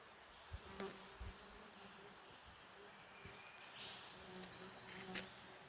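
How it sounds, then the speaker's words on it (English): Flies buzzing around a riverside camp spot at Big River, a faint, steady outdoor drone with a few brief thumps and a quiet voice partway through. "There's a buzzing sound. That's the fucking flies around here."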